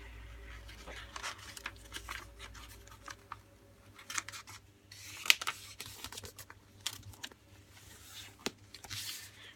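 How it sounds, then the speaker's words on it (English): Scissors snipping through a sheet of paper, trimming away a rectangle to leave a square for an origami ninja star, heard as soft, close cutting and crinkling with scattered snips and paper rustles, no talk. "cut off our rectangle, so all we have is our square"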